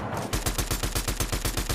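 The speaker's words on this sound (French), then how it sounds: "Je mets un peu des balles au pif parce que je vois pas" Rapid automatic gunfire in a Fortnite match, a steady stream of loud, close shots at an even fast rhythm after a brief quieter start, with no voices.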